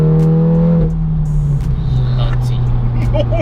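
Seat Leon Cupra tuned to 543bhp on a 100 octane map, accelerating hard in third gear on a dual carriageway, its engine note rising steadily and loudly from inside the cabin with a steady drone beneath.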